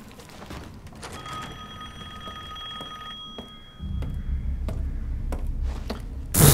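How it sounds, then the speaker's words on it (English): A telephone bell rings electronically in a steady trill for a couple of seconds in the game Resident Evil Village, then a low rumbling drone and scattered thuds take over. "Phone's ringing."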